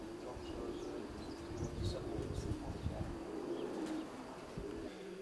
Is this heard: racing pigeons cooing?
yes